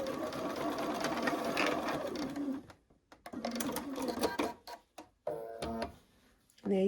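Sewing machine running in quick bursts as it stitches two pieces of a Southwest blanket quilt together, a steady whirring stretch first, then short stop-start runs with pauses between them.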